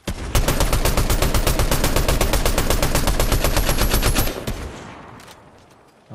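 Rapid automatic gunfire in Fortnite, a dense, loud, continuous stream of evenly spaced shots lasting about four seconds before breaking off into a fading tail and quiet.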